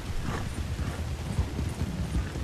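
Hooves clip-clop in a fast rhythm as a horse gallops in the Red Dead Redemption II video game, loud and close over a low rumbling background with no talking.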